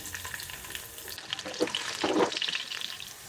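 Ten to fifteen peeled garlic cloves drop into hot oil and set off a bright, crackling sizzle that grows louder and busier after the first second, close and uninterrupted.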